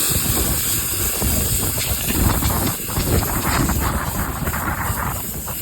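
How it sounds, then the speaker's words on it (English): A pressure washer wand blasts a patio cover post outdoors, giving a loud, steady hiss of high-pressure spray that holds constant throughout with only slight shifts in intensity. "So now we're taking a pressure wand nozzle and just going around here"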